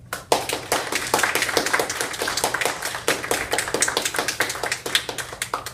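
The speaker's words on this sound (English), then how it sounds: "You can clap for that." Audience clapping after a presentation about a 650-acre plot, a dense run of handclaps lasting several seconds, fairly near and steady, with no talking over it.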